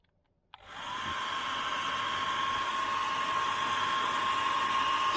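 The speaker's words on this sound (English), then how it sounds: "It's a 1400 watt travel hairdryer" A 1400 watt travel hairdryer switches on with a click and then runs as a steady, loud, continuous blowing whoosh with a constant high motor whine, with no voices over it.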